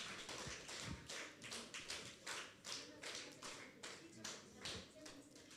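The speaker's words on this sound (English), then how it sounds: "So let's give them a big clap." Clapping for students at a church service, a rhythmic run of hand claps repeating roughly every half second, fairly faint and distant, with a busy room murmuring beneath.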